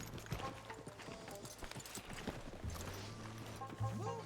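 Hooves of a ridden horse clip-clop in an uneven rhythm at low level, with people talking over the footfalls.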